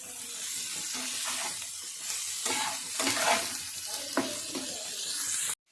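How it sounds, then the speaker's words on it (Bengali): Cauliflower pieces fry in a pan with turmeric and salt, a moderate steady sizzle broken by scraping stirring strokes, then cutting off abruptly at the end, with no talking. "এবার এটাকে আমি খুব ভালো করে একটু ভেজে নেবো"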